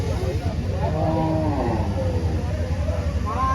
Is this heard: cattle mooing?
yes